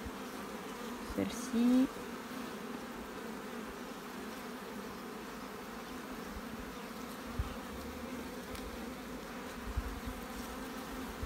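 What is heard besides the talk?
honey bees buzzing on hive brood frames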